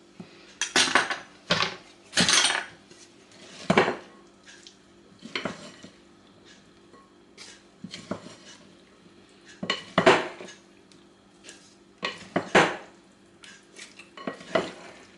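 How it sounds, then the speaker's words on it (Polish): Pasta salad with salami, salt, pepper and garlic mayonnaise being stirred in a bowl: irregular clinks and scrapes of a utensil against dishware, in bursts with short pauses between, fairly close and alone. "Sól, pieprz, majonez z czosnkiem i sałatkę dokładnie mieszam"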